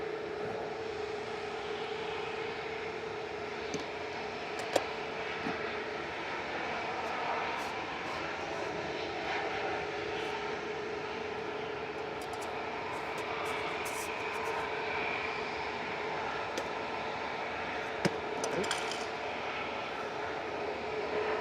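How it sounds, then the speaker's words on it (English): An EasyJet airliner rolls down the runway for takeoff at Manchester Airport, a steady, distant engine roar with a faint hum running underneath and no talk. "And that's EasyJet on the roll."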